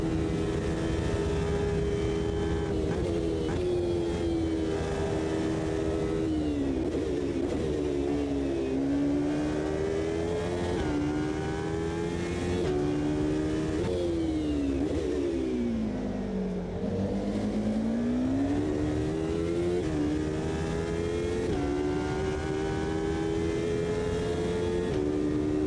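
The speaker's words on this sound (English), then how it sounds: "I don't know how this car is supposed to sound." Race car engine from the 2005 GT class in the racing game Automobilista 2, a continuous synthetic-sounding drone that rises and falls in pitch through shifts and cornering, loud and close throughout with no talking.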